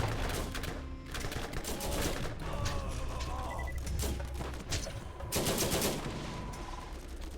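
Gunfire in the video game Borderlands, rapid automatic bursts and repeated shots rattling almost without pause over a low rumbling game background.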